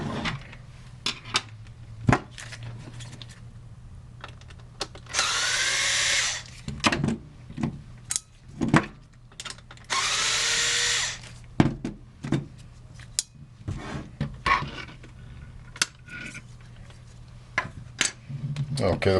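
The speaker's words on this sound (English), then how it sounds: "The next thing I do is remove the two screws on this end." A power drill removes two screws from the end plate of an HP Q2612A 12A toner cartridge, with two sustained whirring bursts between many clicks, clatters and handling knocks of the plastic parts.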